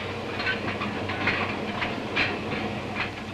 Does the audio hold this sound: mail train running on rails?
yes